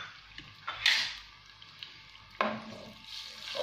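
Garlic and tomato frying in oil in a pan: a soft steady sizzle with a few brighter crackling bursts and a quick scrape or stir partway through, close and fairly quiet.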